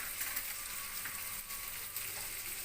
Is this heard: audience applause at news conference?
no